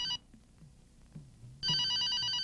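Telephone ringing in two electronic trilling bursts, one cut short at the start and another starting partway through and carrying on to the end, with quiet room sound between.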